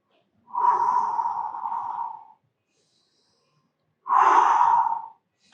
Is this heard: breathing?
yes